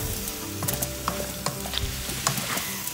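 Onion and sweet pepper being stirred in a pan, a steady close sizzle of frying with scattered scrapes and clicks of the utensil against the pan, no talking.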